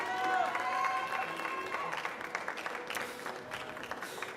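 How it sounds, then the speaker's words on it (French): An audience in Marseille applauds a competitor at a French coffee-and-spirits championship; moderate, sustained clapping with crowd murmur and some voices underneath, fairly quiet overall. "un tonnerre d'applaudissements"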